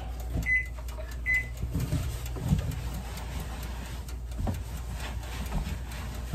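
A microwave oven runs while poaching eggs, a low steady hum beneath scattered clicks and clunks of a plate and Pyrex measuring cup being handled nearby, with no voices.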